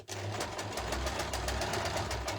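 Domestic sewing machine stitching fabric for a lavender bag, a fast, even mechanical whir and knock running continuously at close range.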